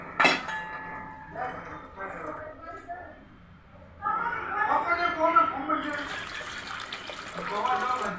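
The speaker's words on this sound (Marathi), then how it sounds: "आता आपण याच्यात पाणी टाकूया." Water poured into a rice pot for spiced masala rice in a home kitchen, a steady splashing pour rising partway through and continuing to the end, with light clinks of the pot and talk earlier on.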